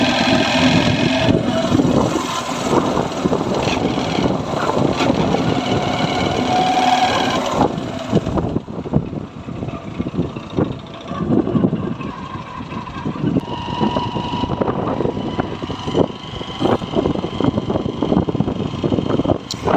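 Honda Shine motorcycle engine with a crank and piston knocking fault, running loud and close with a busy mechanical clatter, revving up in the first part and then dropping to an uneven, rattling rhythm.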